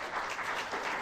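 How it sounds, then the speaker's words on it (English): Brief burst of audience clapping for panelists at a public FDA patient meeting, a steady wash of many hands, moderately quiet and short. "Please, a round of applause."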